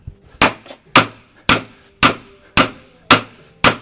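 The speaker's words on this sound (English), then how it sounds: "It's a 5-pound hammer. They're not coming out." A 5-pound hammer drives wooden pegs into a timber cupola bent with seven loud, evenly spaced thwacks, each a sharp crack that rings briefly before the next blow.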